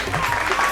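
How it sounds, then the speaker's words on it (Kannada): A studio audience at a Kannada singing reality show breaks into a short, dense burst of clapping. The applause is close and fairly loud, under faint talk. "ಒಂದು ಚಪ್ಪಾಳೆ ಬರಬೇಕಲ್ವಾ?"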